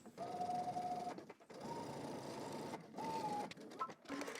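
A home sewing machine runs stitches up a seam allowance on a McCall's 8341 garment, in three close, steady bursts of whirring with short pauses between them.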